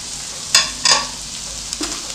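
Garlic and onion sautéing in oil beside browned chicken, a steady close sizzle with a few quick spatula scrapes and stirring bursts over about two seconds.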